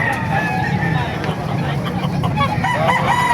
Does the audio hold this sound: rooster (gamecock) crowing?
yes